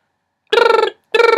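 A person vocally imitates a telephone ringing, producing two close, loud, trilling bursts, the first about 0.4 seconds long and the second starting after a short pause, with no other speech around them.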